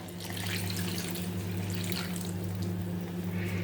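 Liquid marinade being poured over shredded cabbage for quick pickling in a home kitchen, a steady close running-water pour that holds continuously for the whole stretch, with a faint low hum underneath.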